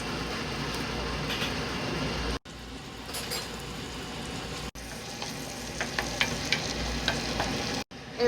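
Food being stir-fried in a pan gives a steady, close hiss of frying with scraping stir strokes and light clinks. The sound runs continuously, broken by a few abrupt cuts.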